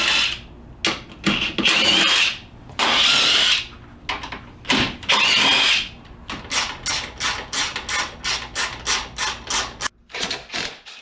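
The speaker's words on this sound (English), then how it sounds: "Removing these 2 Torx bolts." Close, loud power drill at work on two Torx bolts holding a custom grill support: several whirring bursts about a second long, then a quick run of sharp rhythmic ticks and clicks, with no voices.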